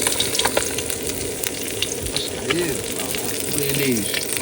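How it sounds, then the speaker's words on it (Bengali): Fried fish are lifted out of hot oil as the sizzle continues beneath, with light scraping and handling knocks close by and a faint voice in the background. "মাছ ভাজা হয়ে গেছে তুলে নিচ্ছি"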